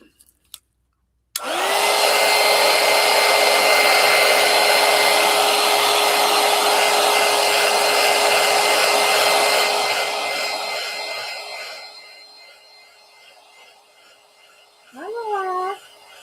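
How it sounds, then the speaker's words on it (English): A heat tool blowing over a mixed media collage disk. After a few faint taps, a loud, steady whirring roar runs for about ten seconds, then fades, and a voice briefly speaks at the end. "let's go one more time with the heat tool because I'm not sure where I've touched what with what."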